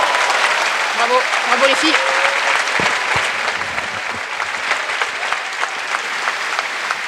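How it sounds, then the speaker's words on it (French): Warm, sustained crowd applause rings through the Palais des Sports during a women's semifinal at the 2025 French championship, dense and even throughout, with a commentator talking over it. "applaudissements nourris parce que c'était joli"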